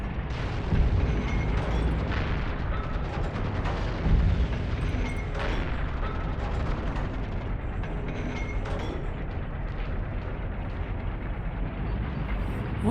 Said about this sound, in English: Why does the gun sound like it's so powerful? It's only a 45mm.